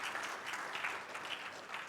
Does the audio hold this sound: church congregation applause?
yes